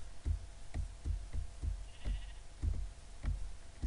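Sheep in Minecraft bleating in short repeated bursts, a series of close, moderately loud calls spaced roughly every half second against quiet game ambience.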